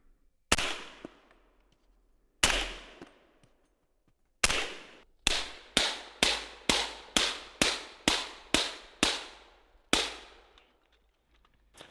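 Suppressed rifle gunshots through a new USMC rifle suppressor ring out as sharp, thudding cracks: three spaced single shots, then a quick string of about ten evenly paced shots and a final one, loud and close, with no talk.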